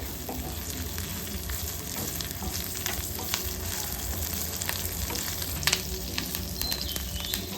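Continuous close-up sizzling and crackling of dried chillies and curry leaves frying in oil, with light stirring noises and occasional sharper pops.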